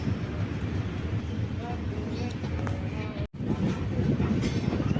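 An empty MEMU train rumbling past near Kollam Junction railway station, a steady loud rolling roar with faint wheel clatter. It runs close and continuous, with a brief dropout midway.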